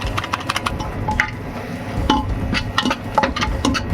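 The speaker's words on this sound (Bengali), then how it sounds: "আবার মশলাটাকে ভালোভাবে নাড়তে লাগলাম" Spices with cumin and coriander powder and a little water being stirred in a pressure cooker, a spoon clinking and scraping against the metal pot in irregular strokes over a faint background hum.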